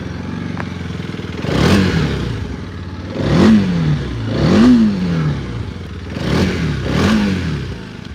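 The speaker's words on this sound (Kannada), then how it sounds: "ಸೊ ಇದು ಎಕ್ಸಾಸ್ಟ್ ನೋಟ್ ಅಂತ ಹೇಳ್ಬೋದು" A TVS RTX motorcycle engine idles and revs, its exhaust note rising and falling through several loud, close throttle blips over a steady idle.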